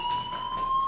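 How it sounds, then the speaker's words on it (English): A fire alarm rings in the video game Life Is Strange as a short, steady electronic tone with bright, sustained pitches, clear and alone. "do you hear that fire alarm? That means you should be outside."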